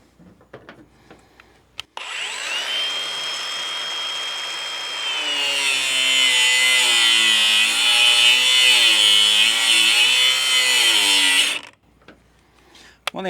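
A Ridgid angle grinder whines up and cuts through wire near a 1957 Willys, a steady loud shriek that runs for about ten seconds, its pitch wavering under load, then stops abruptly with a few clanks around it.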